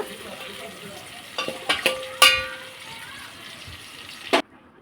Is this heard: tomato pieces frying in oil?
yes